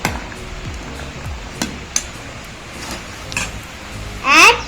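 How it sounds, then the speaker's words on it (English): Fruit salad stirred and mixed in a bowl, with soft scraping strokes and a few light knocks over a quiet background, then a brief bright clink near the end. "Mix it well."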